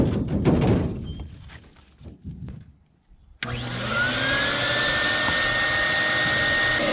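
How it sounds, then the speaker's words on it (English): A shop vac pulls a replacement pool liner against the wall. After some scattered knocks and handling sounds, it switches on abruptly and settles into a loud, continuous, steady roar with a whistling tone. "Now it's time to go ahead and hook up our shop vac here."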